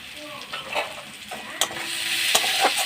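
Spiced lote fish frying in a pan with tomato sauce and ground pepper, stirred so a steady sizzle runs under scattered sharp scrapes and clinks of the spatula, close and moderately loud.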